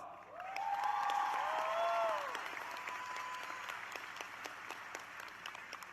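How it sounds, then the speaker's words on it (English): Applause from a graduation audience at a high school commencement ceremony, a broad sustained wash of clapping with cheering whistles rising early on, then thinning to a steadier, softer patter. "that in itself deserves an applause"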